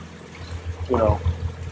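A single splash of water dripping, close by, inside the Standedge canal tunnel, over a steady low engine drone that pulses faintly.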